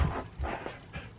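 A puppy pants and whimpers in short, soft bursts, close by and fairly quiet, with a few breathy pulses spaced across a brief moment and no talk over it.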